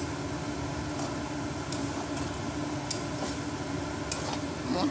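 Sliced potatoes fry and get stirred in a pan, a steady dense sizzle with soft scraping of the spatula running throughout, close and continuous with no talking.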